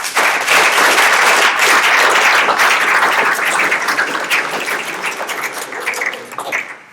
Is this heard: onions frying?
no